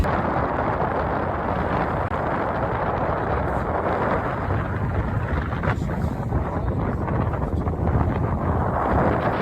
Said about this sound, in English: Wind is blowing crazy.